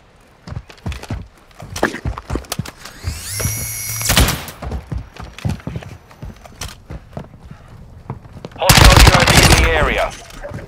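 Machine-gun fire in Call of Duty: Modern Warfare II free-for-all multiplayer: bursts of rapid automatic shots close by, with a dense, loud volley near the end among scattered game noises.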